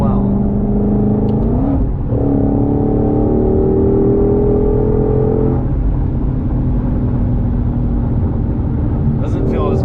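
2021 Ford Mustang Shelby GT500 heard from inside while driving, its engine droning and rising in pitch as it accelerates through several gear changes, loud and close.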